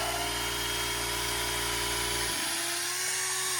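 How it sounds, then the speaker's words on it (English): An air compressor on a deck-building site runs with a loud, steady humming drone, then abruptly cuts out partway through, leaving a thinner background hiss; nobody speaks. "Figures the compressor would go off right when I'm done."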